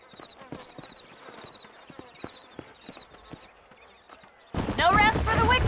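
Horse hooves clip-clop steadily at a walk in the Red Dead Redemption video game, faint and rhythmic against quiet ambience, then a loud burst of voices and galloping noise takes over at the end.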